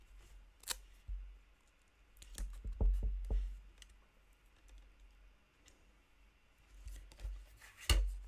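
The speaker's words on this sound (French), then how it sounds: "il nous reste encore ces deux fleurs à découper" Scissors snip close by while paper flowers and a pistil are cut out for a handmade card, giving sparse, quiet crisp clicks and a small cluster of cuts in a near-silent room.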